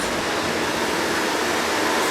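An indoor waterfall with seven-metre-high fountains in an immersive art museum installation in South Korea, a loud, steady, broadband rushing roar of falling water with no gaps, close and alone.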